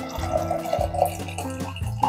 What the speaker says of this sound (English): let's see if you can see it whenever we pour this water